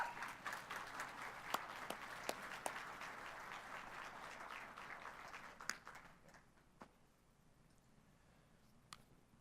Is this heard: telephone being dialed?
no